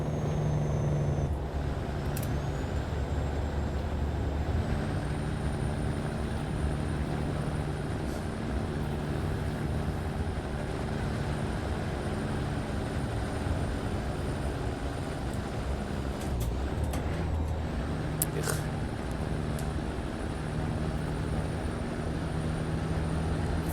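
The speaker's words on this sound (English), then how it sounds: "Unless I put the engine brake on." Heavy truck with a Caterpillar diesel on the Dalton Highway, engine brake engaged for a downhill turn: a steady, loud low-pitched rumble and drone continuing throughout, with faint higher whines over it.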